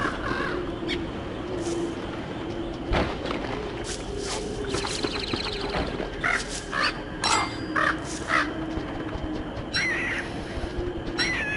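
Birds caw in the video game Don't Starve: harsh caws, several repeated calls scattered irregularly over a steady ambient background, fairly clear and unaccompanied by speech.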